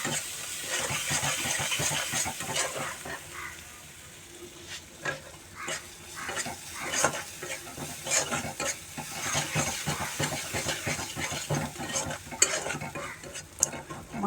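A paste of ground chilli, cumin and turmeric with salt frying in a pan while a utensil stirs it, giving repeated scraping strokes over a continuous low sizzle, close and fairly quiet throughout.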